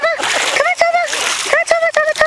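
A dog splashes through water at a dog park, going in after a ball, with several bursts of splashing and sloshing close by.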